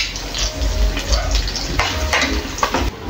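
Chicken and garlic sizzle steadily in a hot pan while a utensil scrapes and stirs, giving a close, continuous crackle with irregular clanks.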